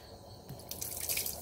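Tap water splashes and trickles steadily onto strained artemia eggs held under a home faucet, a soft, close, continuous wet rush.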